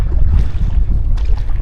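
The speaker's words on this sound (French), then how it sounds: "Tout le temps le fun de faire du canot." A canoe on a calm lake at Aire Nature Grandes-Piles with soft paddle splashes and lapping water, heavy low wind rumble buffeting the microphone throughout.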